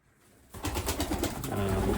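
Racing pigeons in a stock loft coo and stir. After a quiet half second, a close, busy rumble of soft cooing and rustling builds and continues.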